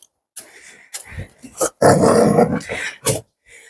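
A dog growls close by in several rough, rumbling bursts separated by short pauses.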